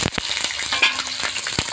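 Chopped onions sizzle close in mustard oil with dried red chilli, bay leaves and whole cumin, a short crackling fry with a few soft stirring sounds and no talk.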